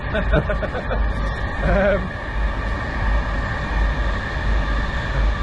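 A train passes by in a steady, loud rumble with a low, continuous roar. A few brief higher tonal sounds come early on.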